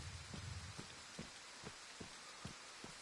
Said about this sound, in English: Rain, thunderstorm.